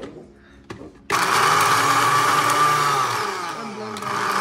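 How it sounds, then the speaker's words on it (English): After a couple of soft clicks, a blender blending Oreo cookies starts abruptly and runs loud and steady, its motor whining with a gritty, churning grind. "And then you just blend the Oreos."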